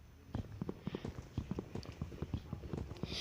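Cattle walking in a Minecraft-style survival video game make a quick series of soft thudding hoof steps, close and fairly even in rhythm.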